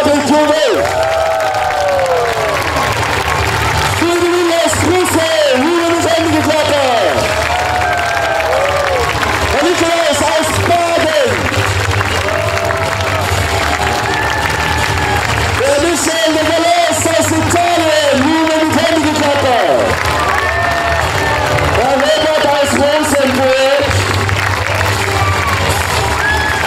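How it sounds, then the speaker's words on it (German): A large crowd at a knights' festival in Laxenburg cheers and claps loudly in repeated waves while an announcer's amplified voice keeps speaking over and between the bursts. "bitte wieder jeden Einzelnen mit lautem Jubel und Händegeklapper"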